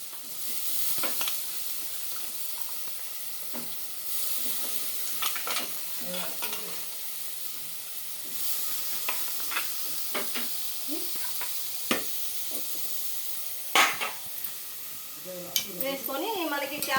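Shredded cabbage, washed in salt and turmeric water and drained, fries in a pan with a steady soft sizzle while it is stirred, giving intermittent scraping clatters and occasional louder knocks, close and moderately quiet.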